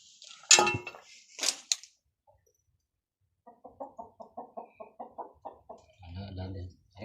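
Several backyard chickens cluck in a quick run of short, evenly spaced calls at moderate distance, after two sharp clattering knocks, with a louder, lower fowl burst near the end; no one speaks.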